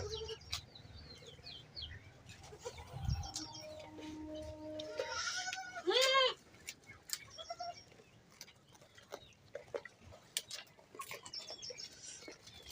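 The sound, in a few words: goat kids bleating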